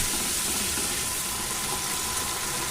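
Masala paste frying in oil with a little water added: a steady, dense hiss and sizzle that stays at an even level throughout, with no voices.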